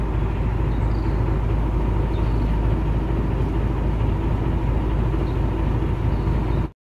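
A low, steady boat engine drone chugs on without pause at slow speed, a slow even rumble with no voices over it.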